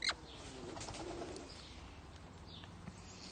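A pigeon or dove coos softly at a distance, a few low murmuring calls over quiet outdoor background with no voices.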